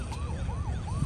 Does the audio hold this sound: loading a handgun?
no